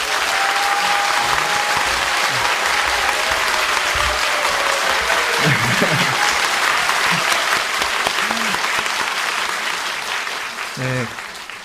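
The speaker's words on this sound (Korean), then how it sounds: "아주 뜨거운 박수로 우리 목사님 맞아주시길 바랍니다." A church congregation at Shinjeju Gwangyeom Church claps warmly to welcome a pastor, sustained full applause that fades slightly near the end, with scattered voices and cheers mixed in.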